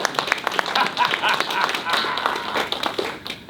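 Crowd applause at an outdoor porch music festival, a dense steady wash of many hands clapping with some cheering and voices mixed in, sustained throughout.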